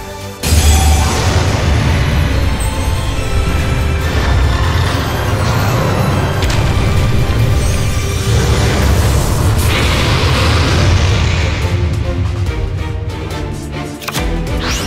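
A loud, booming explosion from a Blue-Eyes White Dragon attack in the Yu-Gi-Oh! Duel Links video game, with a dense roaring blast that sustains for many seconds before a brief dip and a renewed rumble.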